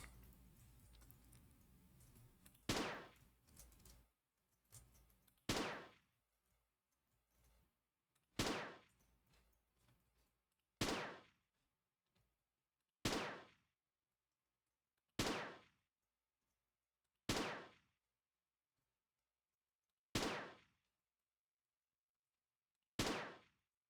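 A gun fires in the Gregtech video game, with about nine sharp single shots spaced a few seconds apart. Each one cracks loudly and then trails off, over a faint hum that drops to near silence.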